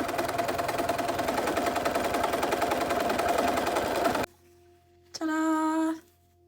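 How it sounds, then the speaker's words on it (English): A sewing machine runs a basting stitch along the bottom of a fantasy tabard costume, a steady close whirring stitch for about four seconds, then stops. A short tonal hum follows after a pause. "After pressing, I am also going to add a basting stitch at the bottom."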